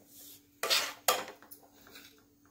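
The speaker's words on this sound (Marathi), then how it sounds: "रवा परतून घ्यायचा आहे आणि अशी उलटाणीच घ्यायची त्याला" Semolina roasting in a pan for rava besan laddoo, stirred with a flat spatula: two distinct scraping strokes close by, then soft faint rustling in a quiet kitchen.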